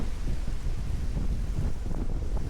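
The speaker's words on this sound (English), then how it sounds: "Winds have increased to about 12 knots" Wind of about 12 knots buffets a sailboat at sea, a steady rushing gust noise with rumbling microphone buffeting and faint water wash underneath.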